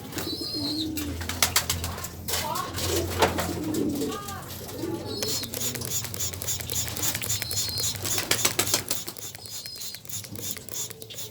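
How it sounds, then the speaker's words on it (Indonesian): Water sprayed like artificial rain for a Sunday morning bath, a steady pattering hiss running throughout, with birds cooing and calling nearby over it. "Kita semprot"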